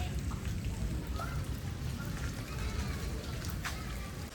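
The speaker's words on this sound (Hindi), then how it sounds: "अभी भी बारिश हो रही है रुक रुक कर" Steady rain falling at night, an even broadband patter on surfaces with a few distinct drips, continuous and fairly close.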